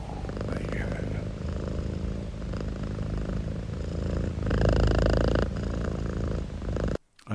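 A cat purrs right up against the microphone in a loud, continuous, rhythmic rumble that swells briefly near the end before cutting off.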